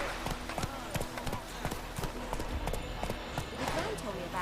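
Horse hooves clip-clopping steadily at a walk in The Witcher 3 video game, a close rhythmic series of hoof beats layered over game ambience, with someone talking throughout.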